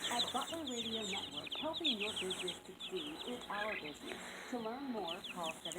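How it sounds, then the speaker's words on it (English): Baby chickens, turkeys and guinea fowl peep and chirp constantly in a busy, close chorus of high cheeps and soft clucks, with a person talking over them in places. "Here's our beautiful baby chickens and our turkeys and some guineas."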